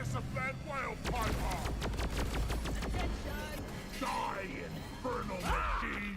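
Gunfire from a mining team's weapons hitting a prospector robot in Deep Rock Galactic, a fast stream of rapid shots running throughout with game noise, while a person talks over it.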